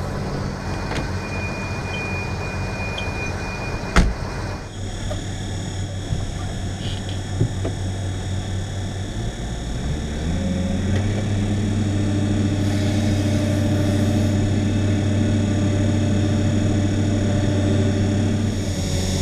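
Combine harvester cutting rapeseed, its engine droning steadily at half throttle, the pitch settling lower partway through and holding a loud even hum with occasional knocks.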